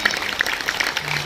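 A crowd at a Ram Katha religious gathering claps briefly, scattered hand claps over a murmur of voices.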